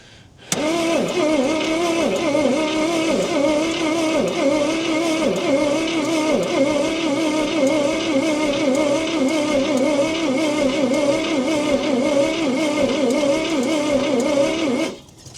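A 1968 Ford Falcon, parked since 1990, cranks on its old starter in one long continuous whirring, chugging run that cuts in abruptly, holds steady and loud for about fourteen seconds, then stops without catching.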